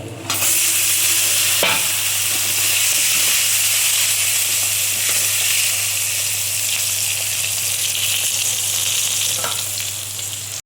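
Eggplant fries in hot oil in a pan with a loud, steady, close hiss that holds for the whole stretch, broken by a couple of sharp crackles and faint stirring.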